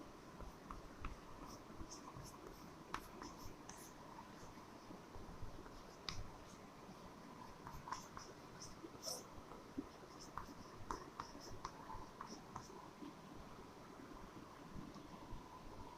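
Chalk or pen writing out a classification heading during a Class 9 Bentham and Hooker biology lesson, faint scratchy strokes repeating irregularly over a constant hiss.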